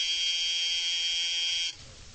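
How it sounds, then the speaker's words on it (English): A buzzer sounds as a radio drama effect, one loud, steady electric tone held for nearly two seconds that cuts off abruptly and leaves low background hiss. "The 3 of us waited until the buzzer sounded."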